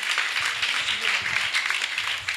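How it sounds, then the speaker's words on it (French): Brief burst of audience applause for a school director at a teachers' day event, a continuous dense patter of many hands with faint voices underneath. "Est-ce qu'on peut applaudir pour la directrice, s'il vous plaît?"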